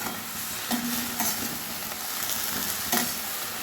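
Drumstick (sajne) flowers with turmeric and cumin powder frying in a pan, giving a steady close sizzle broken by several scraping stirs of the spoon, with no talking.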